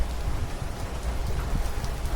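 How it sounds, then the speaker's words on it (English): Rain falls steadily outdoors, a dense, even patter on surfaces with low rumbling texture, moderately loud and continuous throughout. "It's raining now."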